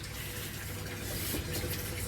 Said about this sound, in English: I've got an air stone in there that you can see bubbling slightly